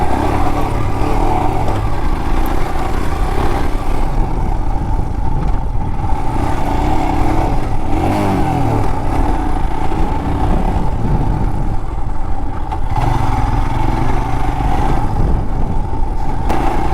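A Royal Enfield Himalayan 411 motorcycle rides off-road, its engine droning steadily and loudly throughout with small rises and dips in revs and a constant rush of wind.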